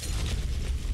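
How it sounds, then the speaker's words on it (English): A Molotov cocktail bursting in Fallout 4, a continuous roaring, rumbling blast of fire heavy in the low end, loud and close, with no voices. "That is a Molotov."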